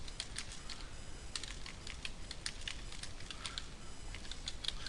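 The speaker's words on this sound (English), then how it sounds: "I'm just typing some gibberish here." Fast typing on a computer keyboard, a close, continuous patter of crisp key clicks with uneven rhythm over a low background hum, with no voices.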